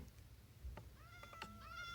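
A Minecraft cat spawned with a summon command gives a few short, clear in-game meows in quick succession, close and alone.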